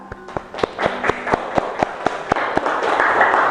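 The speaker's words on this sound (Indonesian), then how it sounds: "Kita beri tepuk tangan" Children in a classroom clap together for a classmate in a sharp, even rhythm of about four claps per second, then break into a denser burst of looser applause at the end.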